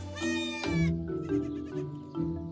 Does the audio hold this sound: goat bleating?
yes